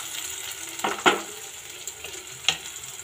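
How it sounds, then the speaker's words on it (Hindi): Onions fry in a pan for a cauliflower and pea curry, a soft steady sizzle with a few sharper clicks and scrapes of stirring, close and fairly quiet with no talk. "प्याज को भूनने देंगे, ब्राउन होने तक हम इसे पकाएंगे।"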